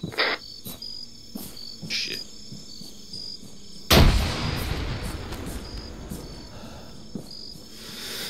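A grenade blast in the military shooter Arma 3 erupts loudly about halfway through, a broad sudden boom that rolls off into rumbling debris, over a steady backdrop of chirping insects and faint distant activity.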